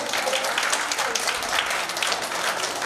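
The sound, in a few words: applause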